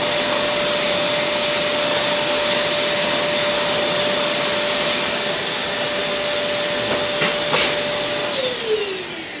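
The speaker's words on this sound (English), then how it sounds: "With a vacuum. Now that's an M-class vacuum" An M-class dust-extraction vacuum cleaner runs steadily and loudly close by with a constant whine, sucking up dust, then winds down slightly near the end.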